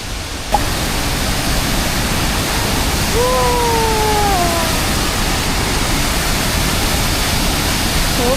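Chiffon Waterfall in Taiwan, heard from the viewing deck: a loud, steady roar of falling water fills the whole stretch, with a brief faint tonal call partway through.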